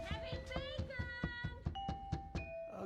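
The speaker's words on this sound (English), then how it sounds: "They ring the doorbell and knock," A chiming doorbell rings over and over in a rapid, bright melodic sequence of tones from a festive holiday special, fairly close and clear, with faint thumps in the background.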